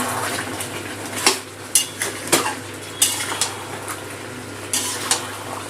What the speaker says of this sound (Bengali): এই অবস্থায় ভালো করে মাংসটা কষাবো।